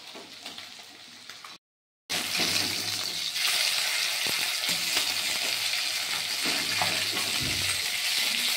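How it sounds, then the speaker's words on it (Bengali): Small mourola fish fry in hot oil, a steady close sizzle with crackling and a few stirring clatters, broken briefly by a short silence near the start. "মাছগুলো এক এক করে সব ভেজে নিয়েছি।"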